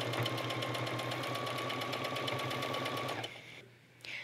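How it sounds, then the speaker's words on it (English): A sewing machine stitches steadily through a sweatshirt hoodie, a fast even mechanical chatter running loud and close for about three seconds before stopping abruptly, leaving a quiet pause and a faint noise at the end. "we're just going to keep sewing all the way to the end of the hoodie."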